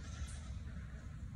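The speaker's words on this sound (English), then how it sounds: "it's a donkey." A donkey brays at a farm market petting zoo in New Jersey, a rough, steady call heard up close through the whole moment, with no talking over it.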